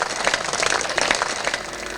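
Audience applause at a Hindu religious discourse (Shrimad Bhagavat Katha) in a village near Kannauj: dense, steady clapping from a crowd, moderately loud and continuous throughout, with no clear speech on top.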